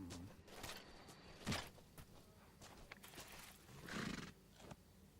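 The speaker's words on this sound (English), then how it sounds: "Take our horse." A horse neighs and its hooves clip-clop in the Metal Gear Solid 3: Snake Eater video game, two whinnies over steady background game ambience, fairly faint.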